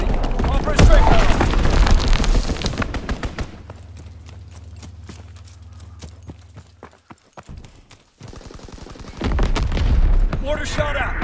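Air strike explosions in the World War II shooter Call of Duty WW2: repeated booms and rapid gunfire bursts over a low rumbling drone, with in-game voices talking at times.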